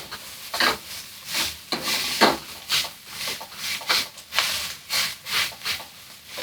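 Pork fried rice stirred in bacon fat, rhythmic scraping strokes of a utensil across the pan repeating roughly every half second, close and fairly loud.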